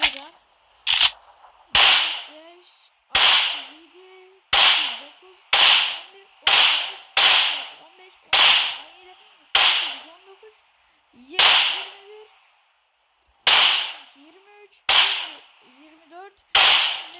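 Groza assault rifle fire in a video game, aimed at a car: sharp single gunshots crack in a loose, fairly regular rhythm, each followed by a short ringing tail, loud and close.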